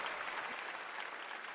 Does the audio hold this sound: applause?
yes